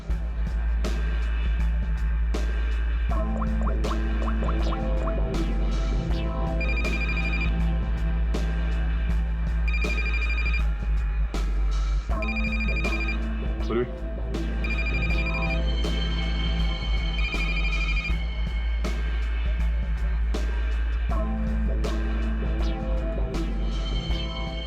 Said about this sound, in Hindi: इस रचना को फोन लगा